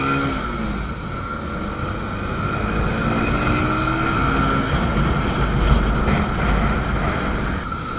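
An old Honda CB150R motorcycle engine drones steadily on a test ride, its pitch rising and falling gently, heavy wind rushing over the microphone, no voices.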